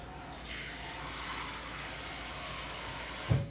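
Tap water running steadily into a kitchen sink to soak bowls, a constant close hiss and splash, ending with a short thump.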